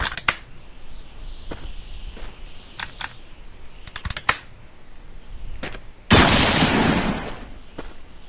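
Shotgun fired in The Long Drive video game, a single loud broadband blast near the end, following scattered sharp clicks and taps.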